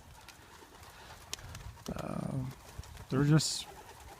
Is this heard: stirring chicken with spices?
no